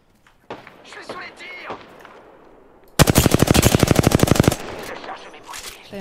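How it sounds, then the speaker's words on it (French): Automatic gunfire in the Apex Legends video game, one loud rapid burst of about twenty shots after a stretch of speech, with a voice talking before and after. "Je suis sous les tirs"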